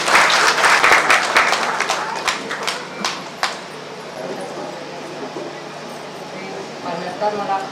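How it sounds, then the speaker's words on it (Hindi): An audience at a Good Friday church service claps to welcome singers, loud clapping at the start that thins out into scattered claps, with murmuring voices behind. "तालियों से उनका स्वागत करें"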